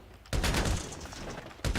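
Gunfire in the GTA video game: a loud, dense burst of rapid shots lasts about a second and a half, then a second short volley follows after a brief gap.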